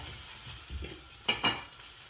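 An onion dosa cooks on its second side in a pan, a soft low sizzle joined by a couple of sharp spatula scrapes near the middle, close and fairly quiet, with no voices.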